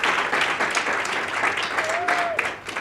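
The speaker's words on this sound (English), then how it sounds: "I want to give a round of applause to Professor Namdi for hosting such a successful event" An audience at a blockchain thought-leadership media event breaks into sustained applause, dense clapping filling the whole stretch, with a brief whistle near the end.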